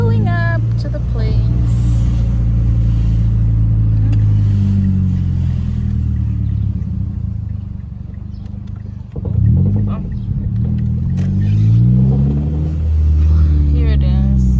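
Truck driving and pulling up after time in a body shop, a steady engine rumble with rising and falling revs as it slows, heard from inside the cab with talk over it.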